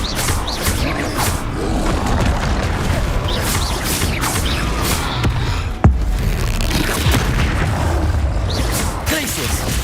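Confringo spell explosions go off during combat in Hogwarts Legacy, a dense, continuous mix of bursts, booms and whooshes with one sharp crack partway through.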